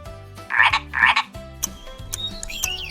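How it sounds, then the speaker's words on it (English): A frog croaks in two loud bursts early on, followed by softer repeated croaks under a steady low pulsing background, heard close and without speech. "It's a frog."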